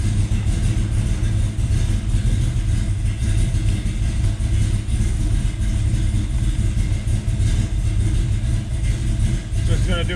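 A carbureted car engine idles steadily just after start-up with an AFR sensor fitted, giving a loud, continuous low rumble throughout with slight roughness and no clear revving.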